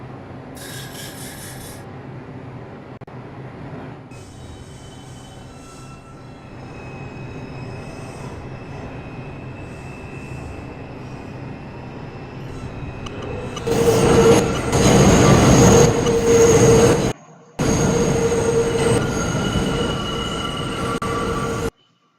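A Roblox video game subway train, a New Lots Avenue bound 3 train on the IRT line near Hoyt Street, rumbles and rattles along the track, growing louder midway with grinding wheel noise and a brief dropout, steady and close throughout.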